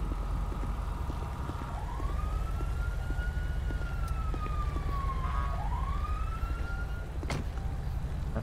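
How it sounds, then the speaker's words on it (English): A police siren on a Ford Explorer wails in slow rising and falling sweeps over a steady engine and road rumble, moderately loud and continuous, with one brief yelp-like burst near the end. "Someone kill the like siren in the Explorer there, please."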